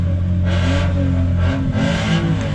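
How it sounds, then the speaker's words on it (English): A Honda car engine revving up in a few loud bursts, rising and falling close by, with no voices. "Wait, that's the Honda making that sound?"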